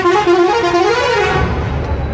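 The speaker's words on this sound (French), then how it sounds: "Avec les klaxons" Car horns honk repeatedly in hot, busy street traffic, loud and close, with a steady blaring tone over the rumble of passing vehicles.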